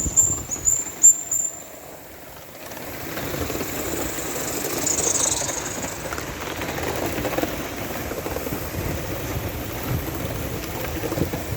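Aster Battle of Britain class live-steam model locomotive, Winston Churchill, running at express speed around an oval track outdoors: a steady low rumble and hiss of steam and wheels holds throughout, fairly close, after a few quieter seconds at the start.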